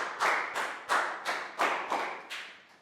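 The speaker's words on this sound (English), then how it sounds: "Big round of applause." A Year 3 class of children claps together in a classroom, heard as about seven distinct, evenly spaced group claps in a steady rhythm, close and moderately loud, with no talking.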